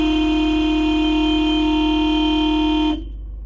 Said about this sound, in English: Y'all want me to do a real Joe angry rude beep?